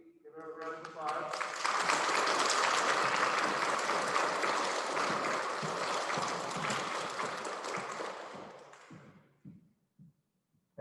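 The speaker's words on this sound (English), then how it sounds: "Give her a round of applause." A school audience at a Veterans Day program claps for a guest speaker, applause swelling quickly, holding for several seconds, then fading out with a few scattered claps and murmurs.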